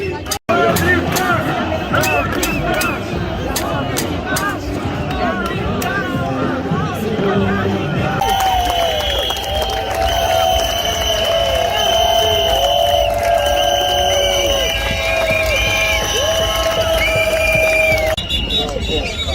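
A large protest crowd in Milan, Italy, sustains a loud, dense roar of cheering and chanting voices throughout, with whistles and shouts rising over the constant babble, close and enveloping.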